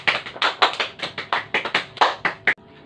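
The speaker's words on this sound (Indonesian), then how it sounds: "Tepuk tangan buat kita semua." A small group of schoolchildren claps in a classroom, about a dozen sharp, separate claps in an uneven rhythm, close and fairly loud, ending abruptly in quiet room tone.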